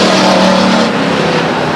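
A race car roars past on the Stockton 99 Speedway oval, loud and close, its engine note holding steady then easing as the car slows after nearly losing control on the front stretch.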